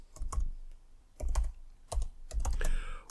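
Close, quick keystrokes on a computer keyboard come in uneven bursts of clacking with short pauses between runs, and no voices are heard.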